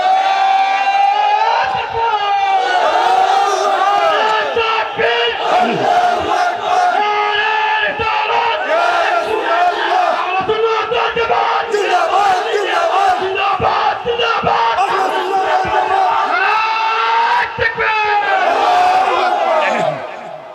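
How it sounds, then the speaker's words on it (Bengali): A large crowd at a Ramadan religious gathering (mahfil) chanting a slogan in unison, sustained loud collective voices with rhythmic shouted phrases lasting throughout, dense and echoing. "একটা স্লোগান লন।"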